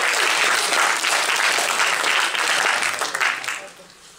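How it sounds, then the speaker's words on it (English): A film festival audience at a directors' Q&A at Toronto After Dark bursts into loud, sustained applause from a packed room, many hands clapping together before it tapers off at the end. "Give yourselves a hand, please."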